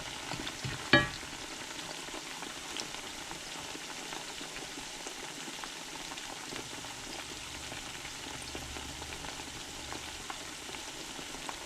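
Liver and onions fry quietly in a pan with a soft, continuous sizzle. A single sharp clack sounds near the start, followed by faint scraping.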